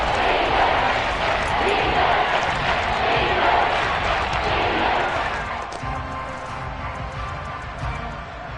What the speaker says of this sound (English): Crowd getting in it a bit already.